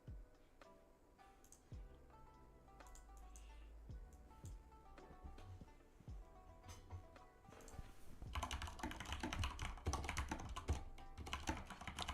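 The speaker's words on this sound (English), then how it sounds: "I'm typing." Quick, uneven clicks and taps of fingers typing on a computer keyboard at a futures trading desk, close and distinct at first, then busier and denser toward the end with a low background hum.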